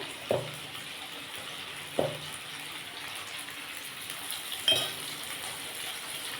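Potatoes frying in hot oil with a pinch of turmeric and salt for a vegetarian potato and pointed gourd curry: a steady soft sizzle with three sharper clinks of stirring spaced a couple of seconds apart, and no talking.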